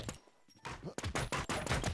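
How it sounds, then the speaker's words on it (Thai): Rapid bursts of video game gunfire crackle close and loud, several volleys in quick succession after a brief quiet gap. "เสียงปืนลั่นชิบหาย"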